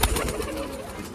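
A high-flying pet pigeon, about ten years old, coos close by in a short soft burst, with rhythmic low throaty pulses over a light background hiss.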